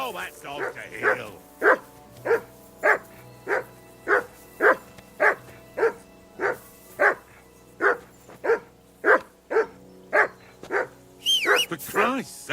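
Persistent, loud dog barking from Kingdom Come: Deliverance 2, a long run of evenly spaced close barks at a steady pace, with someone talking over it and a louder burst near the end.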